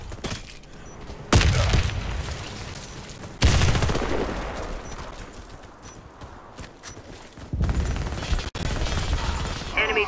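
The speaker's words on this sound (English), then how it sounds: "Grenade out." Grenade blast in the online shooter Warface during a ranked match: a few sharp, loud broadband bursts punch through ongoing gunfire and game noise, each decaying into a rumbling tail, with no talking.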